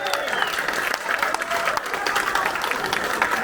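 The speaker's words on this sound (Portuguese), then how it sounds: "salva de palmas para ele" Dense audience applause filling a hall at a political talk, continuous clapping from many hands at steady volume with some voices mixed in.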